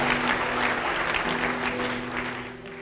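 A church congregation applauding together, a dense, even burst of clapping that carries on for a few seconds and then slowly tapers off.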